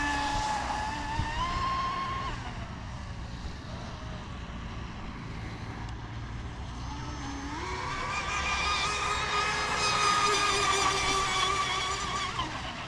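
A small, high-pitched motor on a J&R C32 RC catamaran boat with a Tenshock 4S system whines continuously, its pitch dropping and then climbing sharply as it speeds up.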